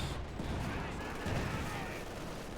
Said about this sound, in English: Machine firing away there.